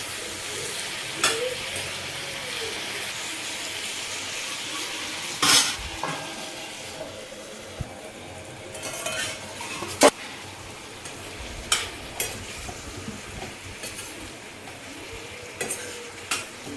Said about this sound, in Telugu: ఇప్పుడు ఆల్రెడీ కట్ చేసి పెట్టుకున్న టమాటో కూడా వేసి బాగా మగ్గనివ్వాలి.